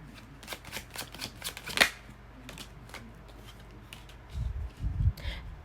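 Tarot cards riffled and shuffled up close in quick rapid bursts, with a sharp snap partway through, followed by softer handling and thumps.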